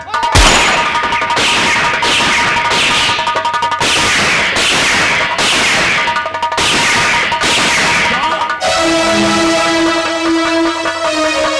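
Gunshots in a live nautanki stage drama, a string of sharp loud cracks and bangs in quick bursts, each ringing out briefly, followed by a sustained musical tone at the end.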